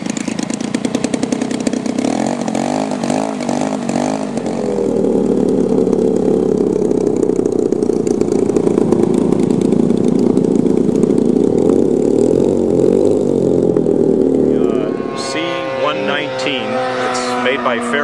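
The piston engines of a Fairchild C-119C Flying Boxcar, a Korean War–era transport aircraft, run loud and close, droning and shifting in pitch for a long stretch before a voice speaks near the end.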